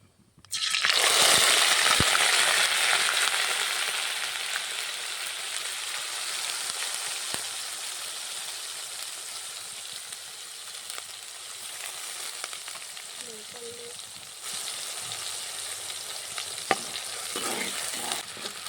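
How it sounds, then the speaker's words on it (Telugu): Onion paste dropped into hot oil with cumin for chicken fry bursts into a loud, close sizzle that gradually settles into steady frying, with occasional stirring clinks. "నూనె అయితే కాగింది కొద్దిగా జీలకర్ర వేస్తా ముందు ఉల్లగడ్డ పేస్ట్ వేస్తున్నా"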